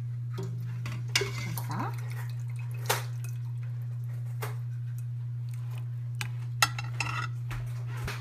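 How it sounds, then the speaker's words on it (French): Cooked meat in sauce is lifted from a saucepan and set into a glass oven dish, giving scattered light clinks and soft wet drips over a steady low hum, with a brief spoken word. "Je vais enlever la viande et je vais déposer dans une plateau en verre."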